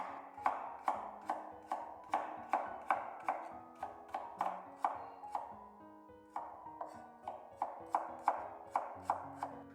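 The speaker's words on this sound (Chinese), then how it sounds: "把生薑刮去外皮，然後再切片。" Peeled fresh ginger is sliced with a knife on a cutting board in a steady run of crisp, rhythmic chops, close and clear, with a short pause partway through before the slicing picks up again.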